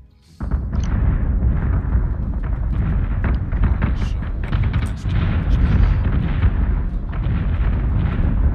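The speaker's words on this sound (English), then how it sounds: "that must have been a Battlestar artillery hit" Heavy Battlestar artillery fire in a Battlestar Galactica space combat game, a dense, continuous rumble of booming impacts and blasts, loud and sustained with sharp cracks scattered throughout.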